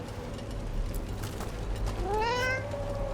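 A cat in Dragon Age: The Veilguard lets out a single rising, drawn-out meow over a steady ambient game background with faint clicks, fairly close and clear.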